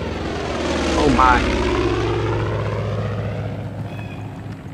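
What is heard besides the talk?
propeller airplane flying in the video game Far Cry 5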